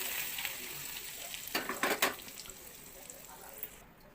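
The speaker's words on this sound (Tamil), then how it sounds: "கடுகு, உளுத்தம்பருப்பு தாளித்து நல்லா எண்ணெய் நிறைய ஊற்றி தாளித்து" Mustard seeds and urad dal crackling in hot oil for tempering, a soft steady sizzle with a few sharper popping bursts in the middle, close and alone without speech.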